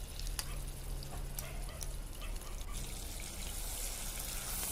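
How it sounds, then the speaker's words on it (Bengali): Onion paste fries in mustard oil in a wok with a continuous close sizzle and light crackle. Faint stirring scrapes and a low hum run underneath. "সরিষার তেলে পেঁয়াজ বাটাগুলা দিতে হইবে।"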